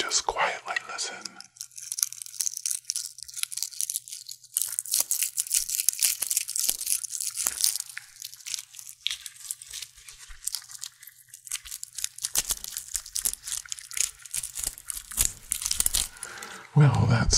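Leftover bits of dried stone glue are crunched and crumbled close up, a long run of dense crackling, crinkling and snapping with quieter pauses between bursts.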